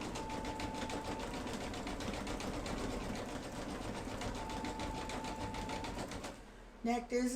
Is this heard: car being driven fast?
no